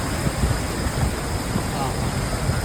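Heavy monsoon rain falls over flooded streets in Ahmedabad, where shops stand in water; a dense, continuous wash of rain and rushing water mixed with wind noise buffeting the microphone fills the whole stretch.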